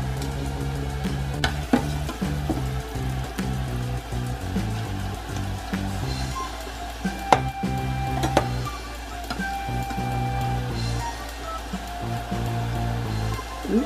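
Onions fry in a hot pan with a steady, dense sizzle, broken by several sharp clinks and scrapes of a utensil stirring against the pan; close and continuous with no talking.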